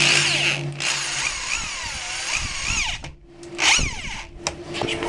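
Power drill driving deck screws through an acrylic piece, the motor whining up and down in pitch as each screw bites, with a brief pause before a second loud burst, fairly close.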